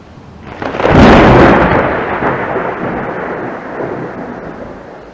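A loud crack of thunder bursts in and rolls on as a long, fading rumble, with rain hissing steadily underneath.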